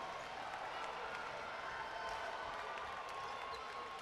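A basketball crowd roars steadily for the Virgin Islands team during the Bahamas v Virgin Islands gold medal game of the 2015 CBC Championship, a dense, continuous wash of cheering and clapping with no clear breaks.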